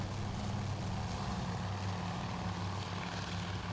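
Droning piston engines of torpedo bomber aircraft in the Task Force Admiral game, a steady low propeller hum with no letup, moderately loud and heard alone.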